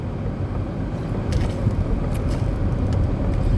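Car interior road noise while driving, a dense low rumble of tires and engine with a steady hiss, holding constant and close with no talk.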